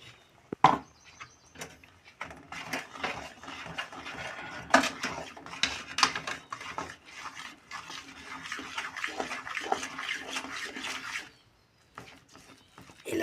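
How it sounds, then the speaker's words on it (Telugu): Sooji rava dough for gulab jamun being mixed and mashed in a vessel, a run of close, rapid clattering and scraping strokes against the pot, stopping briefly near the end. "దీన్ని కలిపేస్తున్నా నేనైతే ఉండలైతే ఉండద్దండి ఉండలు లేకుండా మనం కలుపుకోవాలి"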